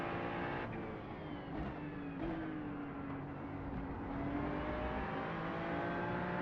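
A Ferrari GT3 race car engine roars steadily in a racing video game, holding a loud, continuous drone with rising and falling pitch as it accelerates along the track, with no voices.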